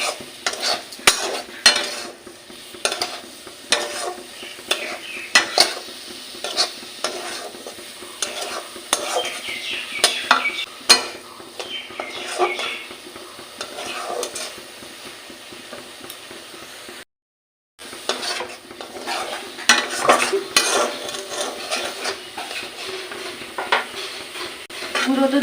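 Stirring sweetened carrot mixture with sugar in a pan, steady scraping and soft sizzling throughout with a brief pause partway.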